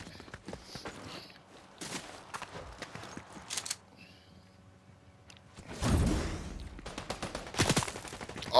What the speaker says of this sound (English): Oh, players, I'm getting shot.